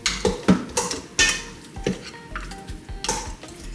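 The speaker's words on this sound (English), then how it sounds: "And stir it a little bit." Seasoned oxtail with homemade masala being stirred in a pot, a utensil scraping and clanking against the metal in a series of irregular knocks with a soft sizzle underneath, no talking.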